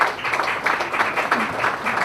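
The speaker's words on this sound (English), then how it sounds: "Let's have a huge round of applause once again for Mr. Hirani." An audience at an education event launch with Rajkumar Hirani and Shashi Tharoor breaks into a brief burst of applause, dense clapping close and loud for about two seconds.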